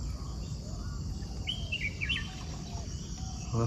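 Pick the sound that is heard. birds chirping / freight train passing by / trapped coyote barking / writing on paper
birds chirping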